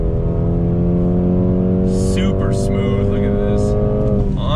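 A 2020 Mercedes-AMG CLA 35 with all-wheel drive accelerates hard out of a turn on a track. Its engine note climbs steadily and loudly from inside the car, with a person talking over it.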